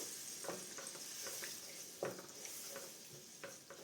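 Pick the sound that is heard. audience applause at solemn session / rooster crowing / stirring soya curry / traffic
stirring soya curry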